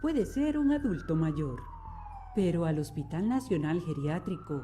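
An ambulance siren wails steadily under continuous talking, its tone gliding slowly downward then rising again, fairly clear behind the voice.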